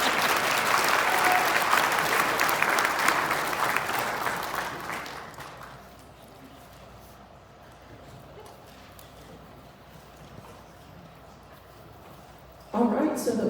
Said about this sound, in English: This is where you can clap for them.